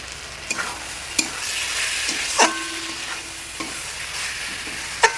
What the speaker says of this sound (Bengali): তারপর এটা আমি আবার ভালো করে নাড়াতে থাকবো